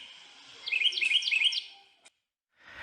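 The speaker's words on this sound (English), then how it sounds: "a photo app that made bird noises and made kids look at the camera" A photo app plays bird noises to make kids look at the camera: a quick burst of bright, repeated chirping tweets lasting about a second, faint and alone, followed by a short click and quiet.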